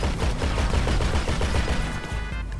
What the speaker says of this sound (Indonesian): Oke, senjatanya bisa ditembakin.